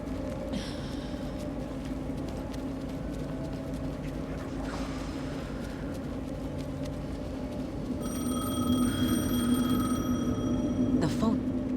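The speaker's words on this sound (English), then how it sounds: "The phone." A telephone rings in the video game Alan Wake 2. The ringing is heard over a low steady ambient hum, with faint speech at times.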